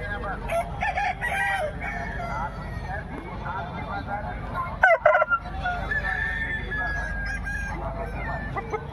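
A fighter rooster crows at a busy village market, its call rising out of steady crowd chatter and background clamor, with people talking nearby throughout.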